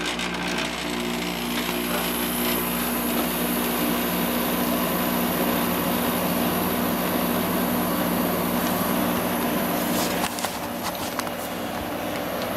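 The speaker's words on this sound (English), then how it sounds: "Here's the 6300 BTU Emerson Quiet Kool, the Matsushita compressor, and it has a GE fan motor now." A 6300 BTU Emerson Quiet Kool window air conditioner with a Matsushita compressor and a GE fan motor runs with a steady, loud, even hum and whir that holds unchanged throughout, with no talking.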